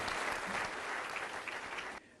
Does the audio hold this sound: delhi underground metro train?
no